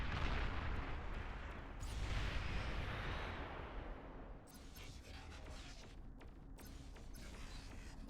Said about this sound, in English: You're shooting missiles at me.